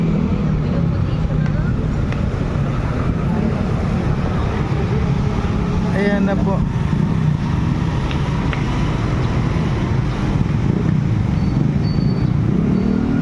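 A motor runs continuously at a steady drone, close and fairly loud, while people talk over it.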